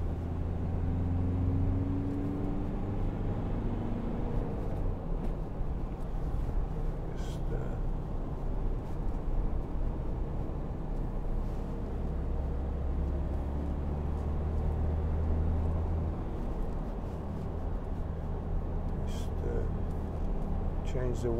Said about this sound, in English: tiny bit of noise off the all-terrain tyres